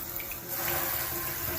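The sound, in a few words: hot water running from a tap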